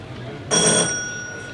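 An office telephone starts ringing about halfway through with a single bright electronic burst, then hangs on as a fading steady tone in a quiet room.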